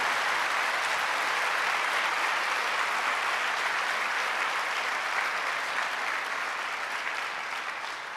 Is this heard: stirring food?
no